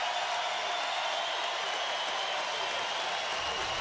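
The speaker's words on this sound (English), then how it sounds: "And your champion, Sammy Brooks, gives the home crowd fans something to stand up and cheer for" A home crowd at a Big Ten wrestling championship at Carver-Hawkeye Arena applauds and cheers in a dense, steady roar that fills the whole stretch.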